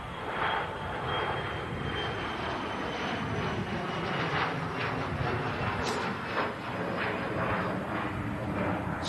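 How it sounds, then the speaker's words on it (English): An Emirates A380 airliner taxis with a steady, broad jet-engine roar and whine holding at an even loudness throughout, with no voices over it. "Emirates A380 now on the move"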